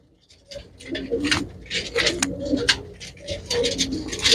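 Close pigeons coo repeatedly in soft, throaty bursts at a pigeon seller's stall, with scattered rustles, flutters and faint background voices.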